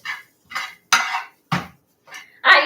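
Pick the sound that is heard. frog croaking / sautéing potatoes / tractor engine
sautéing potatoes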